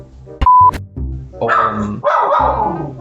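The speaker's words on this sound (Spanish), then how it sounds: "Perdón, está mi perro" A dog barks a few times close by, sharp and loud, followed by a stretch of other noise.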